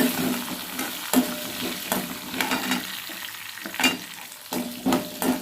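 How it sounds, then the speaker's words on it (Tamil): Garlic and other ingredients for Indian gooseberry (amla) chutney sautéing in a pan, a steady oily sizzle with repeated scraping stirs of a spoon against the pan, fairly close and alone. "நல்லா எல்லாமே வதக்கி விட்டுருங்க"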